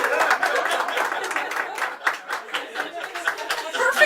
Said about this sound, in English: let's all give him a cheer